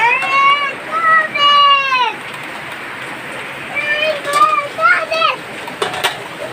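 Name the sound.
rainwater splashing inside a house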